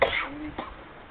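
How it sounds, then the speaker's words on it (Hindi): A single short cough or throat-clearing sound, close and brief, with a quick second rasp right after. "खांसी होना शुरू हो गई"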